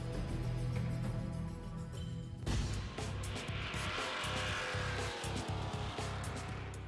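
Cars roar around a motor speedway in a steady, loud wash of engine noise, with a sharper surge of passing vehicles about midway through and continuous racing sound throughout.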